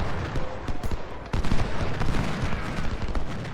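Musket volleys in an American Civil War strategy game battle, dense loud rattling gunfire with overlapping shots and booms, continuous and crowded throughout.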